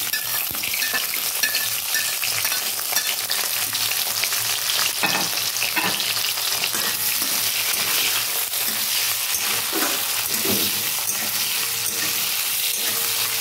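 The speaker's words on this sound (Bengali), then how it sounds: "তো আমি এখন দিয়ে দেবো পেঁয়াজ আর কাঁচা লঙ্কাটা।" Onion and green chilli dropped into hot oil in a pan, frying with an even, close sizzle, occasional metallic clinks and stirring scrapes, no voices.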